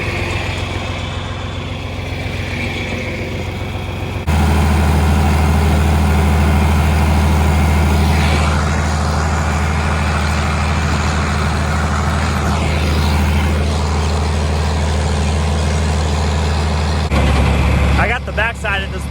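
Tractor engine drones steadily and loudly while planting a field with the row clutches engaged, a constant low rumble that thickens partway through and fades near the end.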